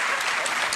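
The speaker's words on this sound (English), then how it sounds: "Let's give a round of applause to everybody." Steady, dense audience applause in a large theater at a PAX East gaming convention show, a brief unbroken wash of clapping from a big crowd.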